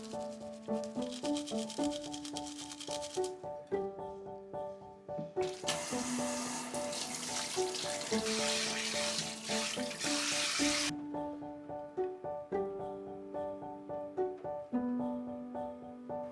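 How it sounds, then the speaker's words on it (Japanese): Small rolled brush scrubbing the groove of a plastic food container lid under a running tap, water flowing steadily with bursts of louder rushing and bristle scrubbing, while gentle musical tones play along. "巻きブラシはタッパーの蓋の溝洗いに使います"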